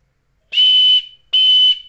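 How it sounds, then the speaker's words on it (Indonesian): Two sharp, shrill blasts from an emergency survival whistle, each about half a second long, separated by a short pause and ringing out loud and clear. "Cukup tiup peluit ini."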